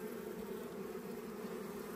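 Honeybees swarm an opened hive frame, giving a dense, steady, faint buzzing drone with no pauses.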